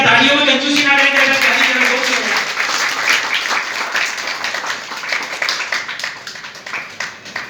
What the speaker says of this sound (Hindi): कृपया तालियों में कंजूसी ना करें।